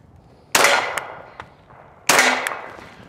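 Two sharp .45 ACP pistol shots from a Mark 23 strike a ballistic mini shield, each a loud crack with a metallic ring, about one and a half seconds apart, with a faint clink between.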